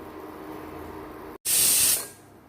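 A pressure cooker whistling as it cooks a white cherupayar curry: a loud, close burst of hissing steam after a brief silence, lasting about half a second before fading, with no talk.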